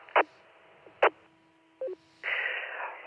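An amateur radio repeater on a Thursday night net plays its courtesy tone, a short stepped electronic beep between sharp clicks and bursts of squelch noise.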